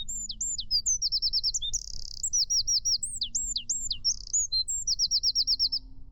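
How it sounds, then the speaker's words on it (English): A wren sings loud, rapid trilling phrases of high chirps and rattles, repeated over and over above a low steady background hum, in the Yorkshire Dales near Pen-y-ghent. "that's a little wren. It's very loud."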